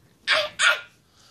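New puppy giving two quick, sharp yappy barks close by in a quiet room, then silence.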